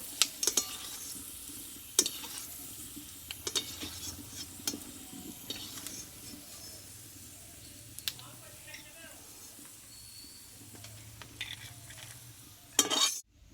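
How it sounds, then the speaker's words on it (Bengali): Peanuts frying in a pan, with a soft sizzle under frequent spatula clicks and scrapes against the metal, ending in a louder clatter; a voice talks over it. "দেখো এখানে কিন্তু বাদামটা ভাজা হয়ে গেছে এ বাদামগুলোকে তুলে নেবো"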